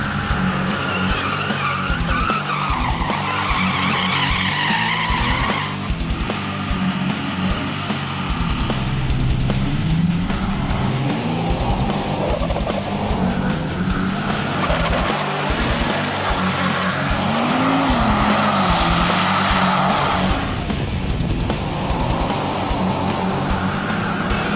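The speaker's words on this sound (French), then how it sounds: "Alors pour vous, maintenant, on suit Jérôme sur la piste dans le 9 secondes" Drag car running a nine-second pass down a drag strip, a loud continuous engine roar with tire screech and pitch sweeps, sustained throughout without talk.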